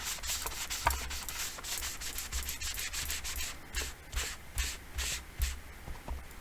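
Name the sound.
rubbing ink onto paper with a sponge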